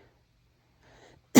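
A woman gives a single short, sharp cough that bursts out loud and close at the very end, after near silence and faint breathy sound.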